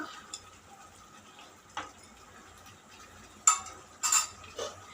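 Chicken feet curry is stirred in a metal pot with a few scattered scrapes and clinks, followed near the end by a couple of sharper clanks as a lid goes on, all fairly quiet with no talking.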